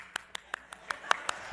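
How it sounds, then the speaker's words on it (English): A single woman claps alone in a conference audience, seven evenly spaced, fairly faint handclaps in a quiet room. "one nice girl was applauding over here"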